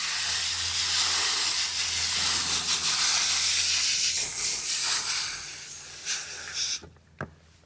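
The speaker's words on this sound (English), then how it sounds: "I am, however, going to kind of spray some of this debris off" A steady, hissing spray of water running for several seconds, washing debris off a dug-up cowhorn agave, then stopping, leaving a few faint knocks and drips.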